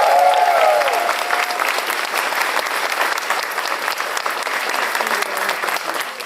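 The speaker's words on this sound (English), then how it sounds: "You did indeed exceed the previous audience in sound and applause" Comedy show audience applauding, a dense, loud round of clapping that holds steadily and fades slightly toward the end, with a brief whoop at the start.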